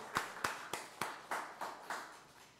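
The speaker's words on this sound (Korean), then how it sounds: "다시 한번 우리 큰 박수로 감사하며 격려합니다" A small church congregation at Sunday worship claps in a slow, faint rhythm, about eight distinct, evenly spaced claps fading away, quiet and somewhat distant.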